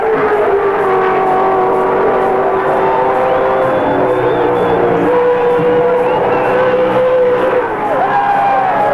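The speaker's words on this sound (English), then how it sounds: "listen to the cheers of the crowd across the top of the mountain" A crowd cheers across the top of the mountain at Bathurst as a V8 touring car is revved hard, a steady, loud roar of engine and voices with a commentator talking over it.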